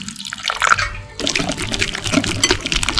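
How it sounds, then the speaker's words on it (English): Water pours into seasoned powder to mix a batter for avocado pakora fries, starting briefly and then running as a steady close splashing stream with no voices. "Now mix it with water."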